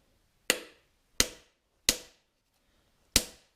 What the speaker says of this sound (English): Then I'll just begin dimpling it with a hammer